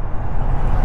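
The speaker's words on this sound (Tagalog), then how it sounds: "Traffic." Road traffic with a truck's air brakes, a loud, close, steady rumble and broad hiss of engines and brakes over less than a second.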